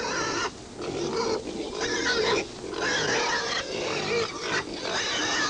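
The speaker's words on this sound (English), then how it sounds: "Pigs have always been a favorite animal of mine." Several pigs grunt and oink close by in a continuous, busy chorus of snorts with short pauses.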